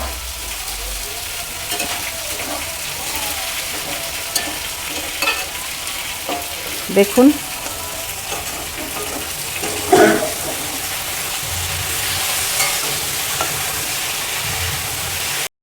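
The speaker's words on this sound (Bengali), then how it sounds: "এগুলোকে আমি ভালো করে একটু ভেজে নেব" Green beans frying in a pan for Bengali-style fried rice give a steady loud sizzle, with spatula stirring and metallic scrapes and clanks in the middle, and a brief spoken word.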